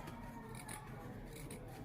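Scissors snip notches into the fabric of a child's dress, giving a few quick, soft cuts with light rubbing of cloth in between. The sound is close but faint, and no one speaks.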